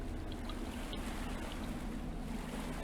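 Heavy ocean waves churn around a sinking oil tanker during a snowstorm in the Stormworks video game, a steady, fairly quiet rushing wash of water and wind with no voices.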